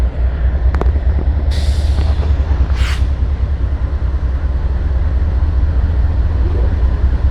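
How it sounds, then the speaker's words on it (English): A train rolls by with a heavy, continuous low rumble, and a couple of sharp hissing bursts, likely air brakes, cut through early on. The train sounds close and loud throughout. "here comes another train"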